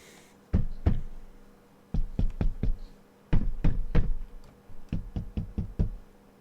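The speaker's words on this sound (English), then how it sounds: "Okay, he's nailing us down." Nails are hammered in The Last Door, with sharp loud knocks coming in uneven bursts of two to five blows separated by short pauses.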